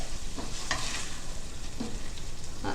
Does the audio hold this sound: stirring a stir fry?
yes